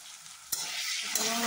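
Chopped banana flower fries with turmeric in hot oil, a dense close sizzle with two sharp stirring scrapes, about half a second apart from each other, briefly rising above it.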